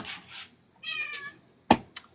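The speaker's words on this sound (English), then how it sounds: "you're hearing my daughter torture her cat" A house cat meowing indoors, with one drawn-out mewing cry followed by a couple of short sharp calls, fairly close and clear against light background noise.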